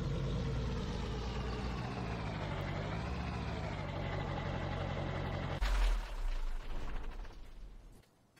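A Kubota compact tractor idles in Farming Simulator with a steady, low mechanical drone, then the tone abruptly changes to a rougher, lower rumble before fading out at the end.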